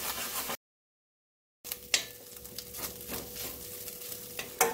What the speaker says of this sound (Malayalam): ഇനി നന്നായിട്ട് ഇളക്കി കൊടുക്കാം